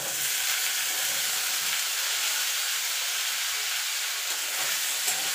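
Bitter gourd frying in a pan just as pumpkin is added, a steady, dense sizzle and hiss close by with faint stirring, no voices.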